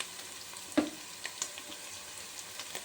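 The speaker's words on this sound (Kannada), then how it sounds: "ಸ್ವಲ್ಪ ಗೋಲ್ಡ್ ಕಲರ್ ಬರೋವರೆಗೂ ಫ್ರೈ ಮಾಡಬೇಕು. ಮೆಣಸಿನ್ಕಾಯಿ ಅದ್ರ ಜೊತೆಗೇ ಫ್ರೈ ಆಗುತ್ತೆ." Chicken pieces fry with green chillies in a pan until golden, giving a steady, close hiss of oil with a few soft stirring clicks and no talk.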